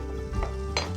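Onion going into hot sesame oil in a pan, a steady sizzle with two brief louder bursts of frying, close and alone without talk.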